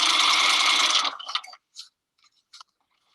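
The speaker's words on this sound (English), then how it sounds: "let's put this under the machine and sew" A sewing machine stitches a seam with a 1/2 inch seam allowance at a standard 2.5 stitch length, on a raglan garment. It gives a loud, steady whir for about a second, then stops, leaving a few faint clicks.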